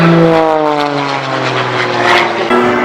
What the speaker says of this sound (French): On peut apprécier la puissance de l'avion qui arrive